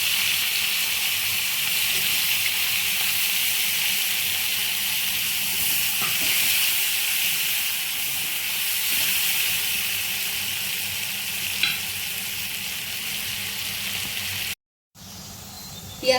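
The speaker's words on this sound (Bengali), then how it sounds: "আমার মাছগুলো ভাজা হয়ে গেছে, এবার আমি ওই তেলেতেই আমি পেঁয়াজ ছেড়ে দেব।" Chopped onions fry in the hot oil left over from frying fish, a continuous, even hiss and sizzle close to the pan for a long stretch, with one brief drop-out near the end and no voices.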